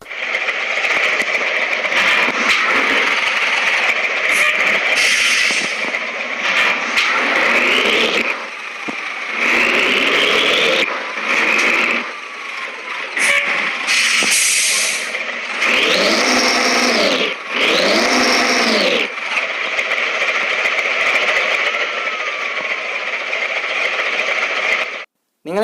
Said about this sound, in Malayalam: നിങ്ങളിപ്പോൾ പുതിയ എഞ്ചിൻ സൗണ്ട് നിങ്ങൾ കേട്ടിട്ടുണ്ട്.